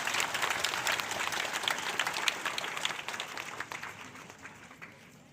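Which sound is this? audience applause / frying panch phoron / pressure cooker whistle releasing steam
audience applause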